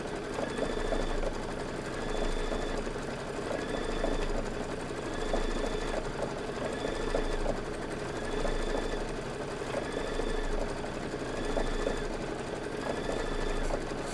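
An embroidery sewing machine stitches a quilt border for a Kimberbell Cup of Cheer project, its needle hammering in a steady, fast rhythm with faint periodic whirring and sliding tones, close and continuous with no talking.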